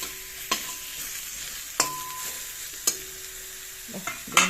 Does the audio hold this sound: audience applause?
no